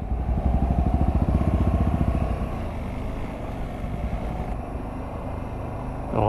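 An offroad motorcycle engine drones while riding on a muddy trail, a close, steady pulsing rumble that is throatier at first and then settles into a smoother, lower hum.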